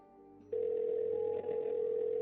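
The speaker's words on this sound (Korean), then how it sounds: "알려준 번호로 초스피드로 전화를 거는 일" A telephone being dialed: a short quiet lead-in followed by a loud, steady electronic line tone held to the end, alone without speech.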